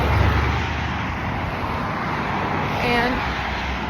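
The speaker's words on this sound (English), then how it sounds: "sorry for the traffic" Road traffic passes nearby in a continuous dense roar of engines and tyres, swelling slightly as a vehicle goes by near the end.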